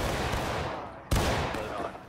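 A sharp, loud musket volley fired on command in the Civil War game War of Rights, a single crack that cuts through steady battlefield noise and then trails off into a lingering rumble.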